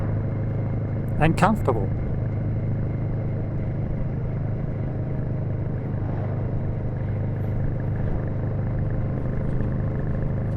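A Royal Enfield Shotgun 650 motorcycle on the move gives a steady, close engine and road drone, with someone talking over it throughout.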